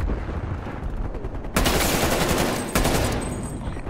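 Sustained automatic sentry turret gunfire in Call of Duty: Black Ops Cold War, a dense, continuous rattling stream with two sharp bursts of louder fire cutting in near the middle and again toward the end.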